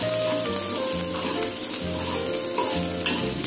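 Home-made masala is stirred in a hot pan for a dry prawn dish, giving a loud, continuous sizzle with spatula scrapes. A low, steady tonal hum sits underneath.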